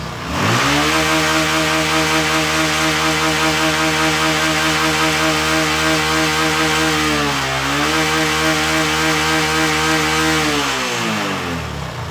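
A Honda Verza motorcycle engine, serviced for stalling, revs hard and holds at a high, loud roar, dipping briefly and climbing again before easing off.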